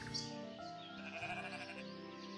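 Sheep in the video game Equilinox give a clear, drawn-out bleat that wavers in pitch, standing alone with no talk over it.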